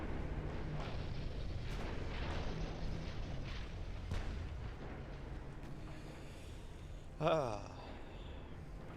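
Warship hit by gunfire and sinking in the Ultimate Admiral: Dreadnoughts naval game, a rumbling bed of distant booms and battle noise with one sharp burst near the end, while a person talks throughout.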